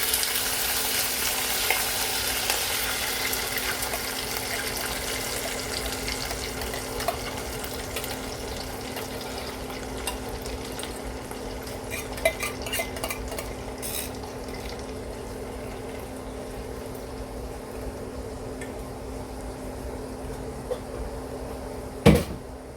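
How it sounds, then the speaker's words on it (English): Canned turnip greens cook in a pan, giving a soft continuous sizzle with scattered light clinks of a utensil while being stirred, and a sharper knock near the end. "Now we're going to add our turnip greens."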